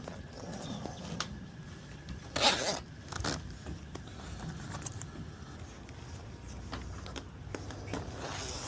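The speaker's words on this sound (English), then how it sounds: "just zip the top zipper all the way across" The top zipper of an OVS Explorer soft shell window is pulled across in a series of ripping zip strokes, with one louder burst midway, close by and amid faint rustling and handling noises, with no talk.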